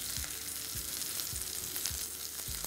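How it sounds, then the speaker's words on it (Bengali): Pomfret fish frying in a pan as hot oil is spooned over it, giving a close, steady sizzle with soft thumps repeating about every half second. "সাথে যে গরম তেলটা আছে সেটা আপনারা এর ওপর এইভাবে দিয়ে দিতে পারেন"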